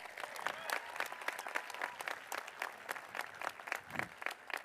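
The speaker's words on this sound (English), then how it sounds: "Please give them all a round of applause." A graduation crowd at a high school ceremony gives a round of applause for the school's administrative team, a steady, somewhat distant wash of many hands clapping throughout.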